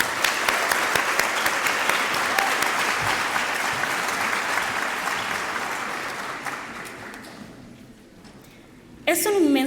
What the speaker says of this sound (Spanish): brindémosle un fuerte aplauso a tan maravillosa mujer